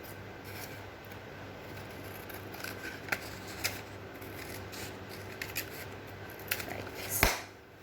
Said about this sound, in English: Cut the sheet into two parts.